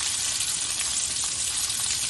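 A salmon fillet fries in a hot pan with a steady, dense sizzle and crackle, continuous and close throughout.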